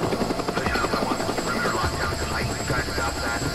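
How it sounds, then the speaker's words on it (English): A helicopter's steady rotor chop and engine drone fill the scene in the video game Days Gone, loud and continuous, mixed with some background game noise. "so it's a Nero helicopter"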